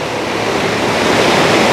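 Broadband rushing water from a waterfall at a busy tourist spot, a steady loud roar that swells slightly and holds without pause and with no voices over it.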